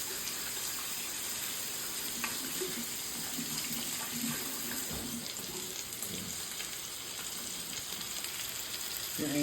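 Tap water running steadily into a sink during handwashing, a continuous close hiss with faint clatter and shifting splashes underneath, no voices.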